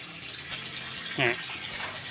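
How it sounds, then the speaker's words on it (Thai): Water flows from a washing machine's inlet solenoid valve in a steady, even hiss, with a brief voice cutting in midway. "น้ำไหลปกติอ่าเทสอีกทีนะครับ"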